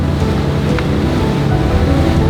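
A tiny speedboat heading out to open sea, loud continuous engine roar mixed with rushing water and heavy wind buffeting, steady and close throughout with no talk.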